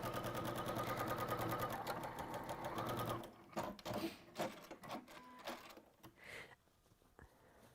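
A sewing machine runs a quarter-inch seam in a steady, continuous whir for about three seconds, then breaks into short stop-start bursts of stitching, fairly quiet and with no talking.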